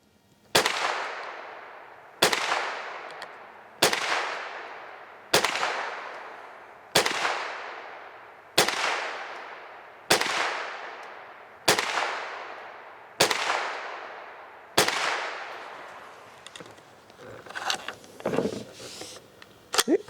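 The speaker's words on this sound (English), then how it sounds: "let's shoot it and see how we do" Nine evenly spaced .22 rifle shots fired from a Caldwell Steady Rest NXT, each a sharp, close crack with a short decay, followed by quieter metallic handling clicks and rattles.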